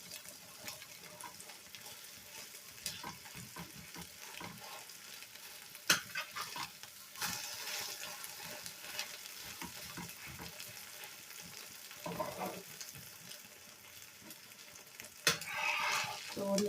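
A tomato paratha fries in a pan with a low, continuous sizzle and occasional crackles and clinks, plus brief splashes like running water, all fairly faint.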